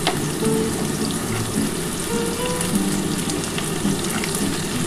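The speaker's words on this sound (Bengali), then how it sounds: "এবার আমি শিমটা দিয়ে দিচ্ছি।" Beans tipped into a pan with potatoes already frying give off a dense, steady sizzle with wet crackling and some stirring scrapes, close and continuous throughout.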